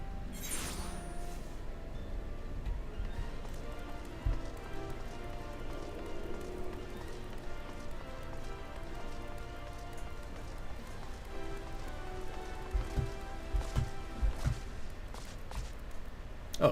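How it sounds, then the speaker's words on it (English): Steady rain falls in Final Fantasy XIV, a constant patter under quiet game music, with occasional light footsteps and clinks toward the end. "Let's get out of the rain."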